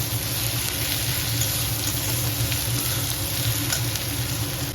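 Onions fry in a pan for a Bengali potol, potato and prawn curry, with a loud, continuous hiss and crackle that stays constant and close.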